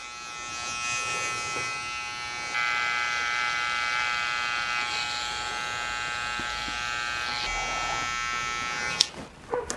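Electric hair clippers lining out the neckline during a curly mullet haircut, a close, continuous buzzing drone that shifts slightly in pitch as it moves, ending with a few clicks and handling sounds.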